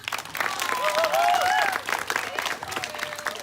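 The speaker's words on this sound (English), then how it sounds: "Can you give them a round of applause?" Camp crowd applauding the facilitators, a steady wash of clapping with some cheering lasting several seconds, fairly close and loud.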